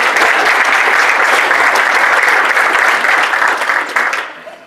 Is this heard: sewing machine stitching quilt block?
no